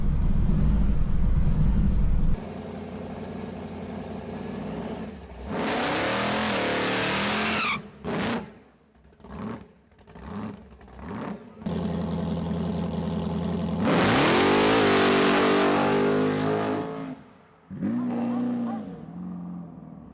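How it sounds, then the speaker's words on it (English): A car does a big power skid off the line: loud, close engine roar and revving that surges, cuts in and out in rapid bursts, then swells again into sustained high revs before dropping away. "Big power skid off the line, yeah."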